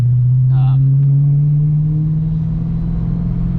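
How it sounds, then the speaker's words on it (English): A 2007 Audi B7 RS4, tuned, with its stock exhaust and flap valves, drones steadily with a low, loud engine and exhaust note while cruising. A brief voice is heard near the start. "the stock exhaust has, a really good note too, especially with the flap valves open"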